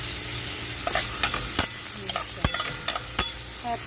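Beef curry cooking in oil in a pan, with a constant close sizzle broken by repeated sharp clacks and scrapes of a utensil stirring the meat, and no voices.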